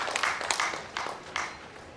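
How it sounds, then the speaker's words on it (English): An audience at an induction ceremony gives a short round of applause, heard as a soft, uneven patter of clapping with a few louder bursts that tapers off. "Please a round of applause for him as he comes forward"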